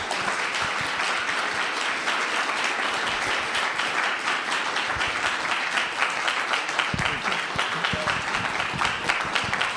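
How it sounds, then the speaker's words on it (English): Congregation applause at a Sunday church service, steady and loud, with many hands clapping continuously and some voices mixed in throughout. "let's give him another round of applause."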